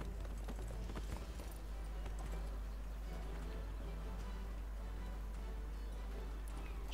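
A horse gallops in the video game Neverwinter, its hooves clip-clopping in a steady, continuous rhythm at moderate loudness over an even background for several seconds.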